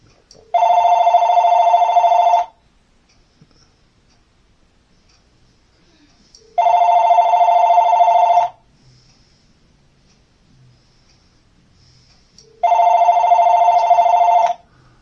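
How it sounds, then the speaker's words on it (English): A VTech cordless phone rings in three loud, evenly spaced electronic bursts of about two seconds each, with quiet gaps between them and no talking. "we're going to do a sound test and a sound check on this phone"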